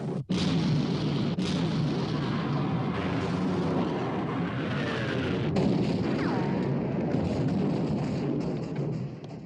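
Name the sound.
naval artillery guns firing in a battle, from film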